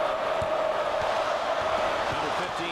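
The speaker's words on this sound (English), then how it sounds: "The crowd is definitely doing their thing. Listen. Crowd loud as hell." A loud, roaring basketball arena crowd in the NCAA 10 video game keeps up a steady wash of cheering with faint ball bounces underneath, while a voice talks over the noise.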